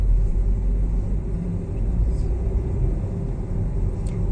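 Steady low engine rumble of a car pulling away under throttle during a driving lesson on a campus road, continuous and fairly loud with no talk over it.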